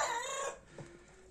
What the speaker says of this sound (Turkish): bu erken horoz da geldi, onu korkutuyor